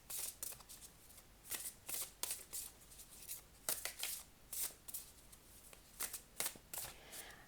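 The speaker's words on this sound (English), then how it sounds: "I'm going to pull a few cards from this deck as well, the Oracle of the Roses" An Oracle of the Roses card deck is shuffled by hand: repeated quick riffles and soft slaps in an uneven rhythm, close and fairly quiet, with no talking.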